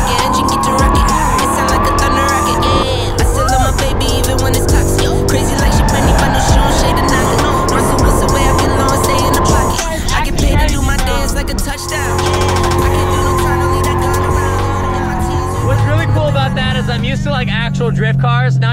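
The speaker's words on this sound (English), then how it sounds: "They also might take us out drifting" A drift car slides with squealing tires and a roaring, revving engine, loud and continuous with shifting pitch as the car swings through its slides, while voices chatter underneath.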